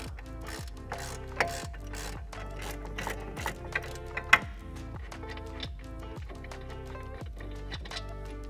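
Ratchet wrench backing out 18 E-Torx brake caliper bolts on a Tesla Model 3, a steady run of rapid clicking pawl strokes repeating in rhythmic bursts, close and clear throughout with no voices.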